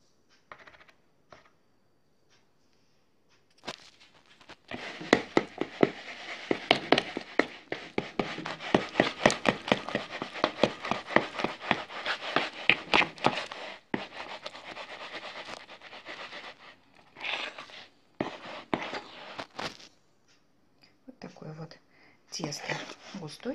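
Rapid, irregular clicking and scraping of a spoon working through thick batter in a bowl, close and fairly loud, with brief pauses.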